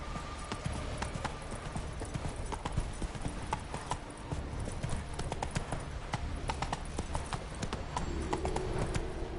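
Horse hooves galloping in The Witcher 3 video game, a steady rapid clip-clop rhythm running throughout, loud and close, with faint tack and ambient game sounds underneath.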